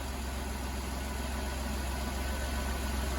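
An old, freshly repaired van engine idles quietly and evenly, with a steady low rumble and no ticking, and no voices over it.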